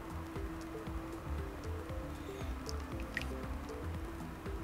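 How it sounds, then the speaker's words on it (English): Sea urchin roe is rinsed by hand in water, giving soft continuous squishing, dripping and gentle sloshing, close and fairly quiet against a faint background hum. "now to clean the uni, we just take our hands, kind of wash it off."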